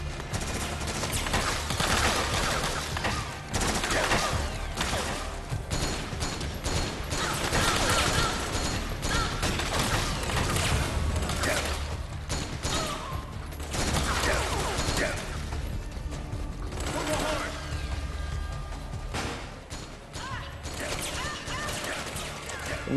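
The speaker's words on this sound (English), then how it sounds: "Who are we shooting at, guys?" Rapid gunfire and clattering mechanical weapon sounds fill a stretch of Metal Gear Solid 4 gameplay, dense continuous bursts with crashes throughout, loud and close.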